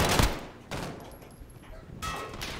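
A sentry gun firing in a Modern Warfare-style video game, heard as loud bursts of rapid automatic fire at the start, middle and end, separated by quieter gaps.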